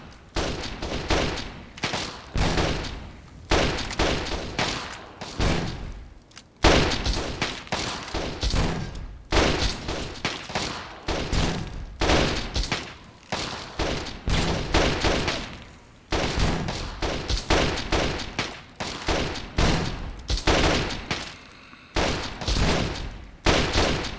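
Rapid bursts of video game gunfire in Fallout 3, dense volleys of shots repeating steadily for the whole stretch with only brief gaps, loud and close with no talk over it.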